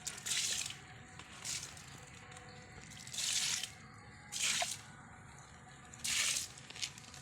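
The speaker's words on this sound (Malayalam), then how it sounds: "നന്നായിട്ട് വെള്ളം ചേർത്ത് നമ്മുടെ ഈ ഒരു പ്ലാന്റ് ചുവട്ടിൽ ഒഴിച്ചു കൊടുക്കാം" Diluted rice water is poured onto the soil at the base of a bean plant in a garden, in five splashing, gurgling bursts with brief gaps and a low outdoor background.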